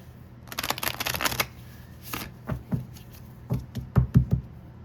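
Oracle cards being shuffled by hand, with a quick burst of rapid riffling followed by several separate slaps and taps as the deck is cut and squared, close and clear with no talking.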